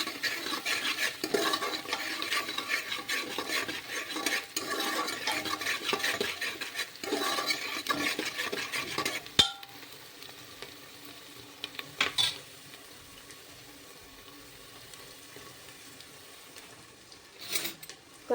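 Onion sautéed with cumin in a pan for dal baati gives a gritty sizzle under scraping stirs for about nine seconds, then fades to a faint hiss broken by a few sharp utensil knocks.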